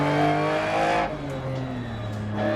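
Lancia Stratos rally car in Dirt Rally on the Monaco shakedown stage, engine roaring loud and continuous, pitch dropping then climbing again as it revs, with no voices over it.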